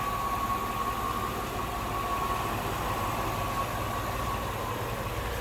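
A 1999 Cadillac DeVille d'Elegance with its 4.6 liter V8 idling, a steady, smooth, even hum with a faint whine, continuous and close throughout with no talking.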